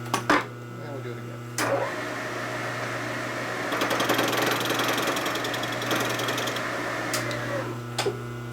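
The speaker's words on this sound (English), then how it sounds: "That makes it a lot easier to grind it now, because now you have a reference on how deep to grind." A grinder works on a motorcycle engine case being machined for 145ci big-bore cylinders, a steady close whine and rasp with knocks at the start and end over a constant low hum.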